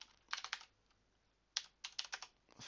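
Short quiet bursts of typing on a computer keyboard, two clusters of quick keystrokes separated by a pause, close and soft with no speech.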